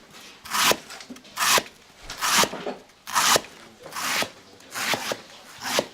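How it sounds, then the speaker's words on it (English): Finely sliced banana stem is mixed and squashed by hand with salt in a basin for Balinese soup, giving close, wet rubbing and crunching squeezes that repeat steadily about once a second. "he really mixed it up and kind of squashed it"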